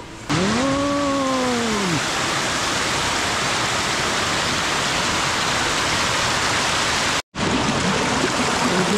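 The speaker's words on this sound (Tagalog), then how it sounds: "Tubig." Steady rushing stream water in Pantabangan, Nueva Ecija fills the whole stretch, loud and close, with a brief whistle-like tone near the start and a momentary dropout late on.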